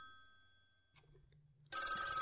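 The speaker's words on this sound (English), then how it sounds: "Telephone's ringing." An old-style telephone bell rings loudly and continuously in a radio drama, starting abruptly after a short quiet stretch with a faint low hum.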